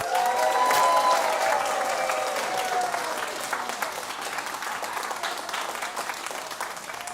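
Audience applause welcoming a storyteller onto the stage at a live concert show, a dense burst of clapping that starts loud and tapers slightly while staying steady for about seven seconds, with no talk over it.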